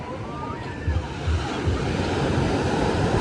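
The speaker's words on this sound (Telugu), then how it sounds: "ముందుకు వచ్చేటట్టున్నాయి అలలు" Waves rolling in on Calangute Beach in Goa, a close, continuous wash of surf with low thumps as water breaks, and faint voices in the background.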